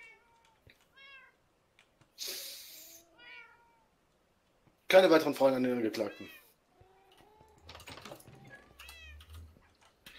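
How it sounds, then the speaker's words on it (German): Orange cats from a jungle in Minecraft meow in short, sparse calls among long silent gaps, with a louder burst mid-way and a voice speaking briefly. "kurz in den Dschungel gegangen, habe mir ein paar orangene Katzen geholt"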